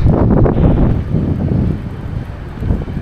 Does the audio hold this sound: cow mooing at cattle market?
no